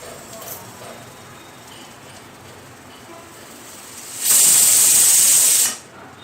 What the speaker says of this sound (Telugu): 5 విజిల్లు ఇచ్చేంత వరకు ఉంచుకోవాలి.